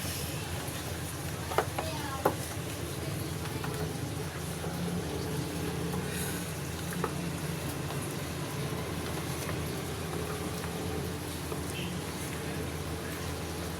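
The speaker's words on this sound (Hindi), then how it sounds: "अब हमने इसको अच्छे से मिक्स कर देना है" Raw chicken pieces for pakora are mixed with spices and red chili, a steady, close, soft churning and squelching with a few light clicks and no talk.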